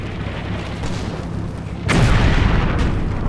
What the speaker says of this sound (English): I'm just going to show you the Jackson shoot